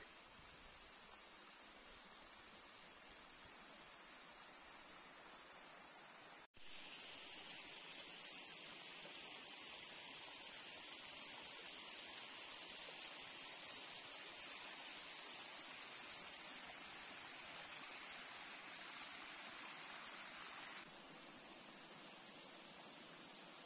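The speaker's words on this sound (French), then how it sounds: "Nous avons l'heureuse surprise de pouvoir découvrir une magnifique cascade sur notre droite." A waterfall on a hillside hiking trail above Groslée-Saint-Benoît pours in a continuous broadband hiss and rush, steady and moderately distant, with a brief dropout midway and no voices.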